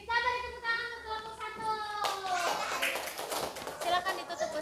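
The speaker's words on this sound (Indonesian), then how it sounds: "Kita beri tepuk tangan untuk kelompok" Children in a grade 5 primary school classroom clap for a group, a dense burst of applause rising midway and continuing, with children's voices chattering underneath and a sung or harmonic tone at the start.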